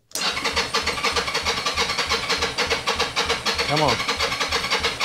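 A 1983 Yamaha Vision XZ550 motorcycle with a troublesome carburetor cranking hard. The starter churns in a fast, steady rhythm without catching, loud and close, and someone speaks briefly over it.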